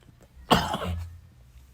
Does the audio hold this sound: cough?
yes